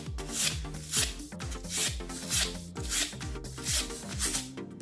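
A Gedore 645 file brush scrubs a small wood file in steady rhythmic rasping strokes, about two per second, close and clear with no talking.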